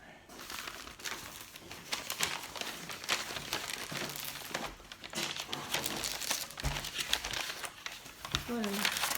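Decorative wrapping paper from a mailed parcel crinkles and rustles steadily as it is unwrapped, with close, busy crackling throughout and a few louder crumples.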